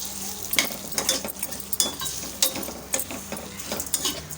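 Metal spoon scraping and clinking in a pan as sambar powder is stirred into hot oil, with a soft sizzle underneath, in irregular repeated strokes, close by.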